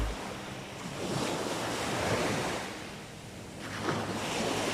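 Ocean waves wash up a beach in a steady roar of surf with wind noise on the microphone, swelling and receding close by, with no voices.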